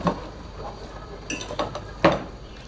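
Marinated chicken for biryani being stirred with salt in a metal pot, a few scattered clinks and scrapes of a spoon against the pot, quiet and close.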